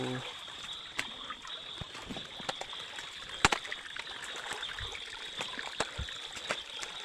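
Clear water flowing over stones in a stream, a faint continuous trickling and babbling with small splashy ticks, quiet and close, a voice speaking briefly.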